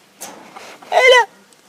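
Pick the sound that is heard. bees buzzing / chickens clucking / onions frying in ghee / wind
chickens clucking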